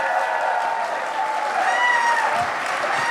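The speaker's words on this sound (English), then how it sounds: "Clap your hands, make some noise" A convention panel audience claps and cheers loudly, a thick continuous wash of hands and crowd noise with whoops and shouts rising over it.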